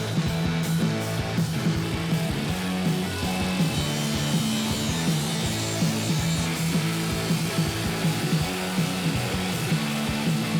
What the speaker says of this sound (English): I get to crank up the saw and cut some steel